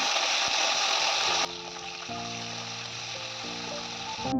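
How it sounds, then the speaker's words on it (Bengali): Cauliflower frying in a pan gives a bright sizzle that abruptly drops quieter partway through, after which a faint hiss continues under sustained tonal hums. "ফুলকপিগুলোকে ভালো করে নেড়ে চেড়ে বারে বারে ভেজে নেব।"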